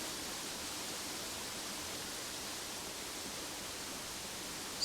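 A waterfall in the video game Uru Complete Chronicles gives off a steady, even hiss of rushing water, constant and moderately soft, with no voices.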